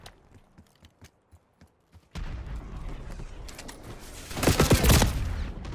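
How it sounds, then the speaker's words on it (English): A Hellstorm strike in Black Ops 6 starts with a few sparse clicks, then a loud sustained roar of blasts and rapid gunfire swells into a heavy cluster of explosions near the end. "Hellstorm incoming"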